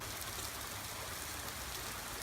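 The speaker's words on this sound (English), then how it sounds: "I was working on the car and it started to rain." Steady rain falling outdoors in sunshine, a soft, even hiss of drops on surfaces with no voices, faint and constant throughout.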